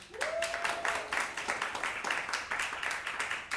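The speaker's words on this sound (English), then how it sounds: "Clap it up if you like Halloween" A comedy show audience at a small theater claps for Halloween, a moderate, fairly even round of applause with a brief voice or whoop at the start, steady throughout.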